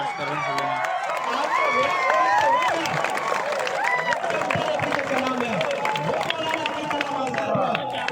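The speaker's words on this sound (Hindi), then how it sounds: "सब लोग उस लड़के को खड़े होकर तालियां बजाएं" A large crowd at a public speech event applauds and cheers continuously, dense and steady, with shouts and voices mixed into the clapping.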